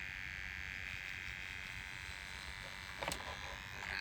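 Electric hair clippers buzz faintly and steadily at close range during a home haircut, with a short louder scrape of cutting near the end.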